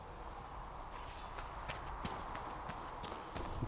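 Horse hooves clip-clop steadily in the Dragon Age Inquisition video game, a quiet, even walking rhythm of repeated hoof strikes over a dense background bed.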